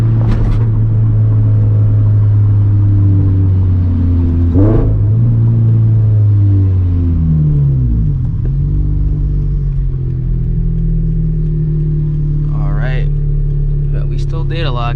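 A turbocharged Scion FR-S with a stock engine drives on a public street, its steady low engine drone rising and falling under light acceleration, with short bursts of talk from inside the car near the end.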